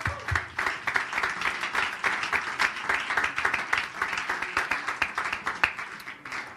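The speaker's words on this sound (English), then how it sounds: "Let's give the Lord one more hand clap of worship." A church congregation clapping hands in worship, a brisk, rhythmic, fairly even burst of many hands clapping together throughout, moderately loud in a hall.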